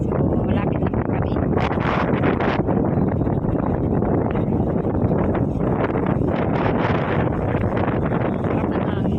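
Strong wind buffets a boat nearing port, a constant loud roaring rush of air across the microphone with gusting surges throughout.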